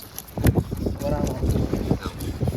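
Strong wind at sea buffets the microphone aboard a boat in gusty bursts, with clattering and a person speaking briefly in between.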